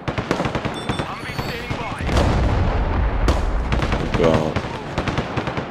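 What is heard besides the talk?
artillery fire in video game Broken Arrow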